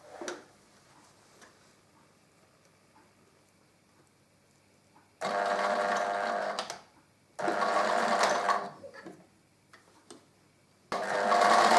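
A sewing machine stitches bias binding onto a fabric coaster in three close, even whirring runs of a couple of seconds each, separated by quiet pauses with faint handling.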